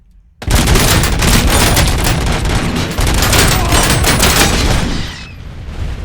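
A sudden, loud, sustained burst of rapid video game gunfire in RoboCop: Rogue City rattles on for several seconds before fading slightly near the end.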